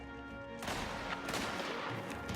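After a quiet moment, loud gunfire in Mafia: The Old Country erupts and continues in dense, rapid bursts until the end.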